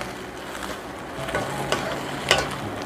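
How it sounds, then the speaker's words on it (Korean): Shishito peppers stir-fry in a pan with a steady close sizzle, a few scraping and clinking strokes of a spatula rising above the hiss. "그래서 이거를 고추 먼저 볶아줍니다."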